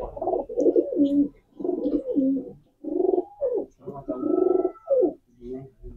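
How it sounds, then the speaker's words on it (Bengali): Racer pigeons coo in repeated low, throaty phrases, close and fairly loud, with brief pauses between bursts and a faint chirp or two mixed in. "রেসার কবুতর।"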